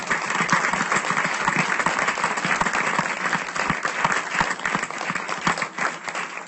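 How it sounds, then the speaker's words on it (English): A board meeting audience gives a round of applause for a group of students and their advisor. Lively, crisp clapping from a roomful of people continues at an even, strong level throughout. "Let's give these students a round of applause."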